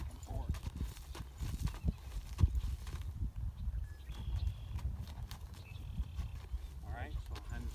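A competitive horse in training steps back and forth, its hooves clip-clopping in an uneven rhythm on the ground. A person's voice is heard faintly at moments.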